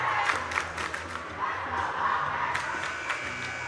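Basketball crowd noise in a gym during a tight CIAC Division III tournament game between Wilby and Fairfield Ludlowe, a steady roar of many voices with rhythmic chant-like bursts, the fans chanting for Wilby, continuous and fairly loud throughout.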